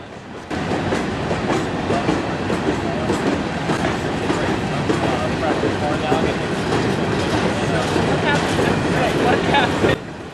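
Southern 8099 leads a freight train rolling past in Columbus, a loud, steady roar of wheels and rattling cars that carries on for several seconds before cutting off abruptly.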